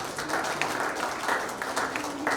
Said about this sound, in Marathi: त्याच्याबद्दल सर्वांनी आपण टाळ्या वाजवा